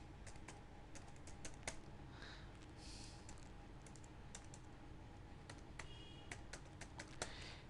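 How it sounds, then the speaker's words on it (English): Quick, light clicks of a computer keyboard tap out a short word in uneven bursts, soft and near in a quiet room, with no voices. "Let me type in swimming."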